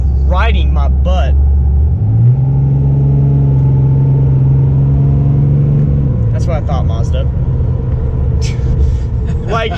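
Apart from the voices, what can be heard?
2012 Ram 2500 truck with 6.7L Cummins diesel driving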